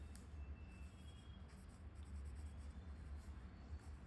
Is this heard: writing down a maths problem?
yes